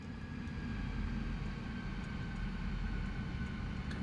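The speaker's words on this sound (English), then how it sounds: "while we are taxiing out here, let's get prepared for takeoff, shall we?" A steady, loud roar of an F-14 jet taxiing in Microsoft Flight Simulator, a continuous low engine drone with no speech over it.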